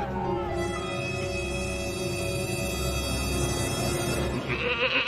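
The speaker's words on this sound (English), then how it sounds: "they keep playing the GOAT noise" A goat bleat sound effect played in an NBA broadcast voice-over parody, a wavering nasal cry with harmonic tones running for several seconds over background music and noise.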